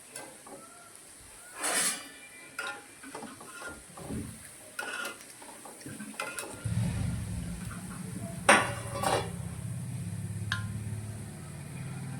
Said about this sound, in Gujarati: એકદમ ક્રિસ્પી થાય ને એવી રીતે આપણે આ મમરી તળી લેવાની છે